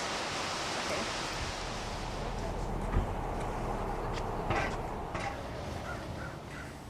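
A waterfall along the Historic Columbia River Highway gives a steady, broad rushing roar throughout, with a few faint voices and brief calls over the constant water noise.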